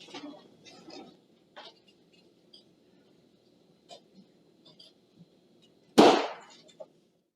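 A single sharp gunshot in an indoor gathering place rings out loud and close, cutting through a quiet room after scattered light movement sounds and faint background noise.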